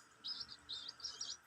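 A pet bird gives four quick high chirps in a short run, faint and close, with no one talking over them.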